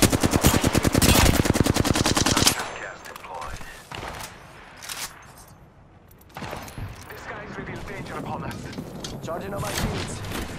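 Gunfire in the video game Apex Legends: a rapid automatic burst of loud shots up front, then scattered single and distant shots with impacts and game effects, under a voice talking.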